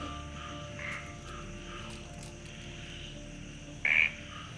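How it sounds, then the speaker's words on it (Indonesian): Frogs croak steadily in the background, a low continuous chorus, with one brief louder higher call near the end. "Ini kodok semua ya yang bunyi."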